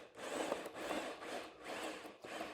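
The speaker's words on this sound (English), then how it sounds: "I'll drill this about 2 inches down, okay, and bracing that drill to my body" Hand drill boring about two inches down into a wood workpiece for a sculpted table, braced against the body; steady rough rubbing grind in close repeated strokes with brief pauses, no talk.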